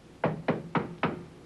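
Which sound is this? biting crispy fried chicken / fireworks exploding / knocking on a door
knocking on a door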